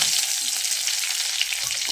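Curry leaves crackling in hot oil with mustard seeds and a broken chili for a Kerala jackfruit seed and banana flower thoran, a steady close sizzle and spatter alone with no talk.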